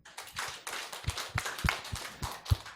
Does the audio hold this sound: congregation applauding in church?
yes